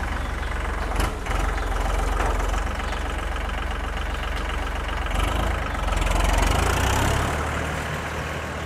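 A multipurpose farm vehicle's engine running on a test drive, a loud steady close chugging drone with knocking pulses that swells briefly near the end.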